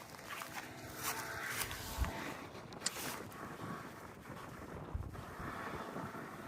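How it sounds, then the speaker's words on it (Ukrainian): Gusty wind rushes and rumbles against the microphone over a wheat field during harvest, steady and moderately loud, with occasional thumping buffets. "На вечір тільки трохи втихає вітер."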